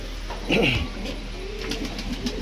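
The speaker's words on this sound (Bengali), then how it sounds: "এই হচ্ছে এক জোড়া রাজশাহী গিরিবাজের।" A pair of Rajshahi Giribaz pigeons coos nearby, a short, throaty burst followed by softer murmuring, with a steady low hum beneath.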